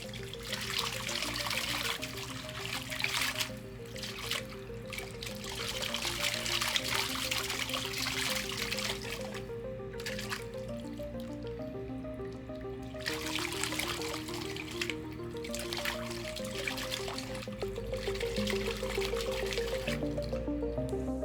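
Water churns and trickles from a Hygger HG105 DC aquarium pump in a shifting wave mode, with splashy surges that rise and fall in uneven pulses over a steady low hum, moderately quiet and without talk.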